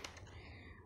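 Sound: typing on a Cosmic Byte mechanical gaming keyboard

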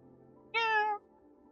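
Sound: cat meowing in Stray video game trailer

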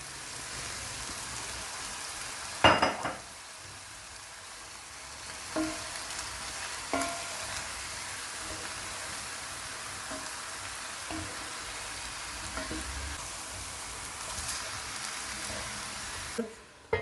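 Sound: sautéing chicken and mushrooms in a pan

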